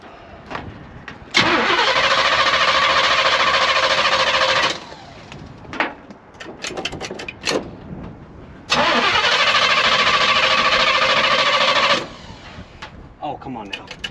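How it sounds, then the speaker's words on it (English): A 1981 Oldsmobile Cutlass engine with a choppy idle makes two long loud sustained roars, separated by rougher, uneven running and clunks, close up, with brief talk in between. "Idle's a little choppy."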